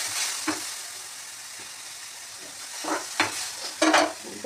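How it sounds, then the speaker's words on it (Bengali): Lentils (dal) go into a pan of fried onion, tomato and dried red chilli, giving a soft steady sizzle with sharper bursts of hissing and stirring near the end. "এবার আমি কী করবো ডালটা দিয়ে দেবো।"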